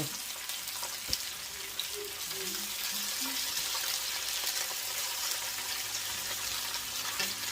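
Potatoes and onions fry in a pan with a steady, dense sizzle that carries on throughout, with a few soft scrapes and knocks of stirring near the start, close and moderately quiet.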